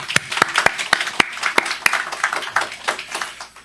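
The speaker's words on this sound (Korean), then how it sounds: "우리 하나님께 영광의 박수 한번 돌릴까요?" A small church congregation claps during a Sunday worship service, with sharp individual claps standing out at first before blending into a softer, scattered round of applause.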